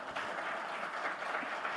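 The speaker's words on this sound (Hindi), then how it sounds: "इस पे जोरदार ताली बजाई जा सकती है" Audience at a business conclave clapping, a steady dense wash of applause from a crowd, moderately loud and continuous throughout.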